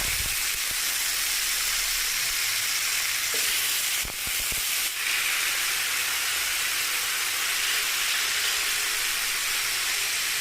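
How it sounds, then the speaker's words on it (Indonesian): Chicken frying in a little oil, a loud, steady hissing sizzle throughout with a couple of faint clicks and scrapes partway through, close and continuous. "Sekarang kita mau goreng ayamnya."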